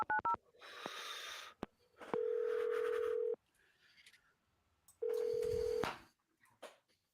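A telephone keypad beeps through a few quick tones, followed by two long steady dial-tone bursts separated by a quiet gap, close and clear with faint breathing and rustling between.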